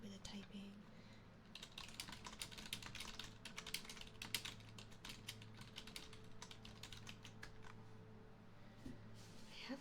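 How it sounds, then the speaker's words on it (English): Typing on a computer keyboard in a close ASMR binaural recording, a steady stream of soft, quick key clicks with brief pauses, alongside a low background hum. "I'm going to do a little bit of typing"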